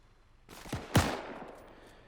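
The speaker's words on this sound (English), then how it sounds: "Oh, he's firing at me." Enemy gunfire in the WWII setting of the Arma 3 video game: a couple of sharp cracks in quick succession, the second louder, trailing off into a short echo at moderate distance.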